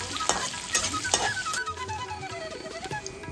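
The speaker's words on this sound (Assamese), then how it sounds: "পিঁয়াজ আধা ডোখৰ কাটি লৈ ইয়াত দি দিব আৰু এইখিনি অলপ সময় ভাজিব" Chopped onion fries in a pan with a continuous close sizzle and crackle, broken by a few sharp stirring scrapes early on; no voices.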